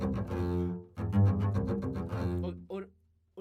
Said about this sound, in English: spiccato sometimes sounds like this